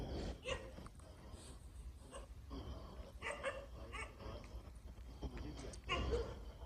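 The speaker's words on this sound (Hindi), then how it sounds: "तो बहुत भयानक तरीके से भौंक रहे हैं यार।" Several dogs bark in a graveyard at night. Their barks come in scattered, sharp bursts at a moderate distance, mixed with murmured voices nearby.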